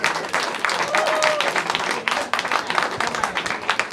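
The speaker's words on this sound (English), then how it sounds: "Clap it up." A comedy-show audience breaks into loud, dense applause and clapping that fills the room without pause, with a few voices mixed into the crowd noise.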